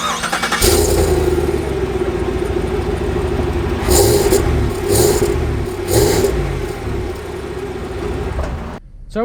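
A 2019 Chevy Suburban Premier starts off on a drive, its engine note steady and moderate under road and cabin noise, with a few brief rises in revs before a sudden cut at the end.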